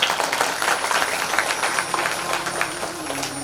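A crowd at a devotional storytelling gathering claps together loudly, a dense steady patter of many hands that keeps going for several seconds and then fades slightly toward the end.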